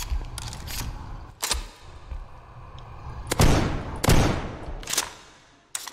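Gunfire in a video game, a handful of sharp, loud shots spaced irregularly over steady rumbling background ambience, several in quick succession near the end.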